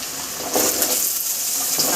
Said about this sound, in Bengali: তরকারিগুলো ভেজে নিই